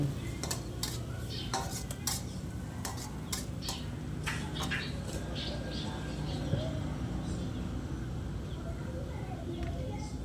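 A utensil stirs stir-fried eggplant with pork in a pan, producing a series of sharp metallic clicks and scrapes at an uneven rhythm over a low background hiss.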